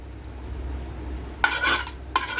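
Desi ghee heating in a pan, first a low quiet hum, then two short bursts of bright sizzling or crackling near the end, close and brief.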